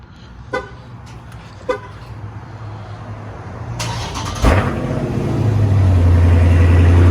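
Cold start of a 2019 Dodge Scat Pack V8 after a couple of faint clicks: the starter whirs, then the engine catches with a loud bark and settles into a deep, rumbling high idle, close up.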